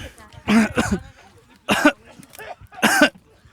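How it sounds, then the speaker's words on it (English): Several people cough in harsh, separate fits from tear gas during an olive harvest in the West Bank, one burst after another with short pauses between. "Everyone starts coughing."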